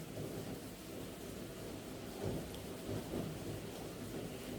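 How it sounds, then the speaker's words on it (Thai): Heavy rain pours steadily in a dense, constant hiss while low thunder rumbles roll through underneath, with no voices. "โอ้ฝนตกหนักมากเลยนะครับผม"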